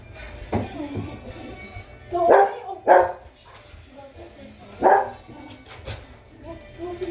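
Several dogs bark in a home kitchen, sharp separate barks in a few bursts, fairly close, with people talking quietly between them.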